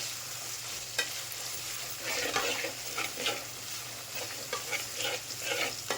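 Onions sautéing in a pan for a mutton curry with broad beans, a steady soft sizzle with repeated scraping stirs of a spoon across the pan, fairly faint and close, with no talking.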